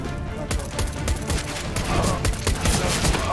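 Rapid bursts of gunfire in a competitive online shooter match, dense repeated shots and booms filling the whole stretch at close range, with no talk over them.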